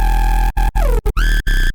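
Two Serum 2 synth leads stacked together, recreating the synth from a song, play a choppy phrase with pitch glides, thick and loud with a heavy low layer under the bright buzzy top.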